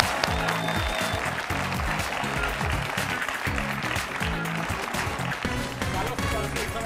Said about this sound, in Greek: Το νούμερο 6 να έρθει στην παρέα μας με ένα χειροκρότημα.